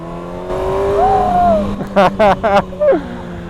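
A loud, raw Kawasaki ZX-6R motorcycle engine with its exhaust removed revs hard in several sharp bursts, rising and falling in pitch, close and unmuffled, with a voice briefly underneath.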